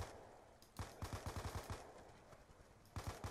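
Automatic gunfire in the Call of Duty: Black Ops 2 campaign, quiet and somewhat distant, coming as two rapid bursts of rhythmic shots with a short gap between them.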